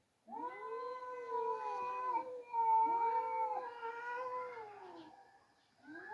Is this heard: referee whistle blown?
no